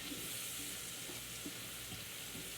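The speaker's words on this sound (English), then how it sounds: "we're going to add our onion and our pepper" Chopped onion and pepper frying in browning butter for a smothered chicken gravy, giving a soft, steady sizzle and hiss with faint stirring, quiet and continuous with no talk.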